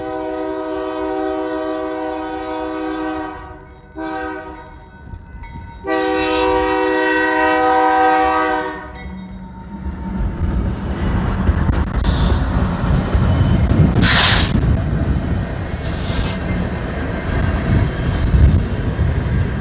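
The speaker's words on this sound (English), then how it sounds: "Mostly coal trains." A coal train passes in Plattsmouth, Nebraska: loud, drawn-out horn blasts sound first, then heavy rumbling and clattering of cars and wheels rolling by nearby, with occasional metallic squeals.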